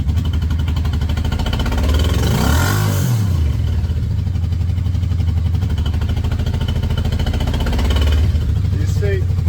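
Engine of a 1989 Yamaha VMAX motorcycle, carbureted, revving up from a rough idle with the throttle pulled, a loud close swell that peaks and falls back to a steady throb with mechanical clatter.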